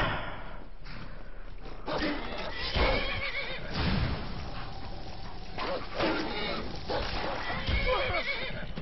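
A horse in the video game Skyrim whinnies several times over game background sound, with an occasional snort and faint hoof movement.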